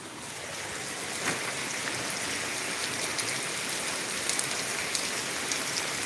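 Steady rain falls with an even, dense hiss of drops on surfaces, close and continuous, with no talk over it.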